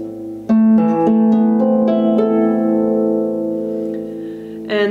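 A lap harp plucks a Greensleeves phrase, moving from a high A to an E, with clear ringing notes that sustain and overlap in a slow, gentle sequence, played alone up close.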